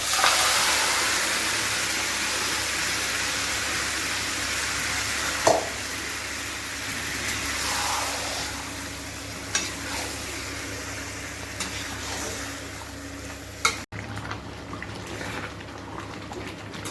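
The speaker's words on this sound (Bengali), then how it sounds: "এখন আমি মাংসটা দিয়ে দেব।" Mutton frying with whole cumin and whole garam masala in a pan: a steady sizzle with occasional scrapes and clinks of a stirring spoon, and no talk over it.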